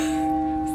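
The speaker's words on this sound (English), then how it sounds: "As soon as I touched it, there was a bell ring." A church-style bell rings at the old town hall in Chełmno, a steady sustained tone lasting under a second, heard on its own with no talking.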